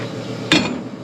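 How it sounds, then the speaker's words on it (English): A hammer strikes the cut metal end of a part during hay equipment repair: one sharp, close metallic whack over steady background noise. "we'll just whack it with the hammer"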